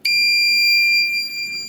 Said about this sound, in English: if I'm going to break the barrier,